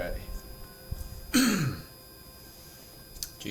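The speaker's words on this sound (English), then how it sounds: "gotta stop clearing my throat" A man clears his throat once, a short gravelly rasp rising then falling, close to the mic in a quiet room, with faint background hiss before and after.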